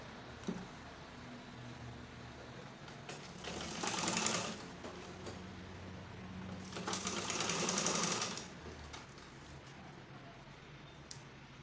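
A sewing machine runs in two short bursts of stitching over a zipper, separated by quiet pauses with small handling clicks.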